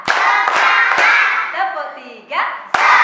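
A classroom of pupils claps three sharp, evenly spaced beats in unison, followed by a teacher speaking and another crisp clap to close.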